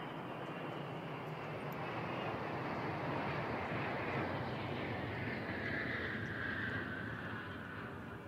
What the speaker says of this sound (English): this is helicopter or airplane